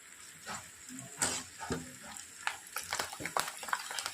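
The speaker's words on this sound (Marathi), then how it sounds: "चला मग आता तेल गरम करून चिप्स तळूया." Homemade potato chips fry in hot oil, a steady sizzle broken by sharp crackles and bursts as slices go in, close and moderately loud with no talking.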